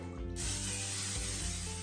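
A spray bottle mists oil over chicken tenders in an air fryer, a short hissing burst with a mechanical clicking of the pump trigger, close and fairly quiet.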